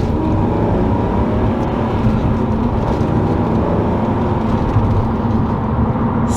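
A BMW M3 E36 engine revs sharply on a downshift, a loud, sustained roar from close by that rises and holds with dense mechanical intensity.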